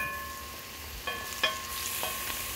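Chanterelle mushrooms sautéing in a pan, a soft steady sizzle with a few light stirring clinks, quiet and close.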